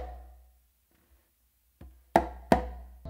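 A single conga is struck up close after a quiet pause: a soft light tap, then two sharp, crisp slaps in quick succession, followed by the start of another stroke.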